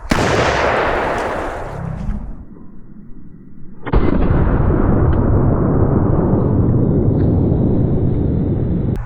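A Panzer BPA12 bullpup shotgun fires a loud 2 3/4 inch buckshot blast that decays over about two seconds, then a second sustained roaring burst starts and holds to the end, with no voices.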